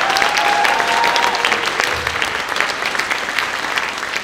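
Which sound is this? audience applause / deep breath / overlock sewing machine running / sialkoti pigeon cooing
audience applause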